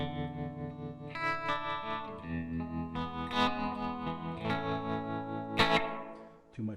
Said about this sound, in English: find a tremolo sound you like.